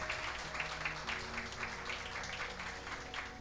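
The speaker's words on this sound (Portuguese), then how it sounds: "Pode aplaudir essa palavra" Applause from a church congregation at a communion service, a soft, steady patter of many hands clapping at a distance, with a faint low hum underneath.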